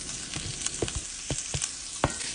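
Garlic frying with shrimp in olive oil in a pan, a steady close sizzle broken by several sharp clicks and taps of utensils against the pan, no voices.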